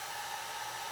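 A hair dryer blows steadily on alcohol ink to spread it into rose shapes, giving a close, continuous whoosh with a constant motor whine and no pauses.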